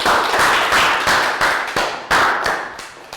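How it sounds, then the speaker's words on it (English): Schoolchildren in a Year 3 maths class clap together in a big round of applause for a classmate, a loud, dense burst of hand claps that swells and resets in several quick waves. "Big round of applause for Prel,"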